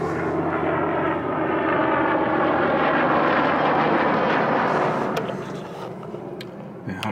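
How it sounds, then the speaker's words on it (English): A loud helicopter engine drones past close by, steady and rumbling, then fades away over the last couple of seconds. "There's the helicopter going by again."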